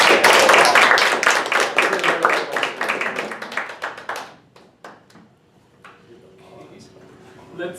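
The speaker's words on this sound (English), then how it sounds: "I want to give you a round of applause" A small group at a Toastmasters meeting claps briskly, close and loud for about four seconds, then the clapping thins to a few scattered claps and fades, with faint voices stirring afterward.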